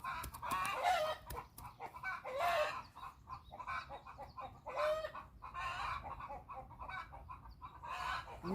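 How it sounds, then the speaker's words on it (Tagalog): Several chickens cluck and call nearby in irregular bursts, with a rooster's crow rising among the clucks. "ayan ang mga manok ko"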